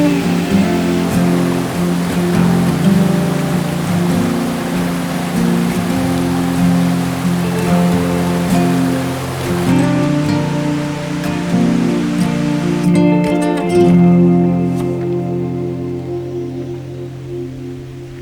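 Elliott Creek flowing beside a forest hiking trail near Goat Lake in Washington's Mount Baker–Snoqualmie area, a steady, full rush of running water that stays loud and continuous throughout with no voices.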